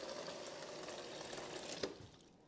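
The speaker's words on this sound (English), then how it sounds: "Gonna flush it out for a while, get that water running through there." Water runs steadily from a refrigerator's dispenser as the new line is flushed, a soft, quiet, continuous splashing trickle with a small click near the end.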